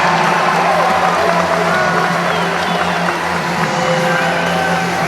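A basketball crowd at a Gonzaga vs Portland women's game cheers on its feet, a dense, loud, sustained roar of voices and noise filling the arena without a break.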